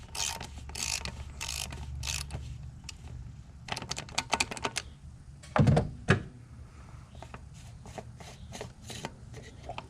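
Ratchet wrench on a 1/2 inch extension clicking as it loosens the fuel filter on a 6.0 Powerstroke diesel engine, with bursts of rapid pawl clicks, a few louder clunks near the middle, and steady background hum.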